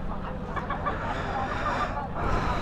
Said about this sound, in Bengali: সুন্দর মুরগিগুলো, খুব সুন্দর।